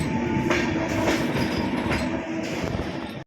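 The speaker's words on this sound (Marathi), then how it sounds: "ट्रेनमध्ये एका कोपऱ्यातून दुसऱ्या कोपऱ्याकडे जात असलेली ट्रेन" A train rumbles steadily along the rails on the route to Araku Valley near Vizag, with rhythmic clacking from the wheels, loud and close, with no voices.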